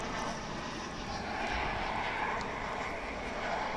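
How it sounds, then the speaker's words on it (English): An airliner flying in to land at DFW International Airport, a steady, moderately distant jet engine roar that holds evenly throughout. "This flight that you're about to see go through the skies"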